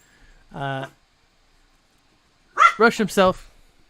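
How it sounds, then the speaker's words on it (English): A dog gives one short bark, then after a pause a quick cluster of several sharp barks and yips, close and clear against a quiet indoor background. "my dogs are gonna be barking throughout this entire stream."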